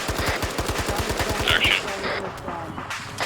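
Sustained automatic gunfire in the video game Arma 3, aimed at a Humvee: a rapid, loud burst of shots that thins into scattered fire and reverberation, with a voice briefly audible.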